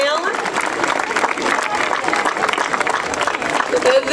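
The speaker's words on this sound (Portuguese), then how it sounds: "Salva de palmas para ela." An audience at a school's solemn opening ceremony applauds a student being honoured, a busy patter of clapping mixed with murmuring voices and a brief tonal sound near the end.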